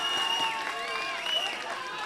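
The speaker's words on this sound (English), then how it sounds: "The Pakistani crowd comes alive now" A Pakistani crowd at an international fighting tournament roars and cheers steadily, a dense mass of voices with whistles and shouts holding loud throughout, swelling slightly in places.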